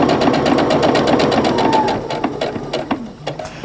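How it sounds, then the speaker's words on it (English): A sewing machine stitches a quilt seam with a rapid, even, close chattering rhythm. It slows and stutters to a stop near the end. "And then I'll just sew all the way down."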